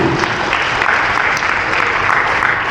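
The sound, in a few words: applause for Marici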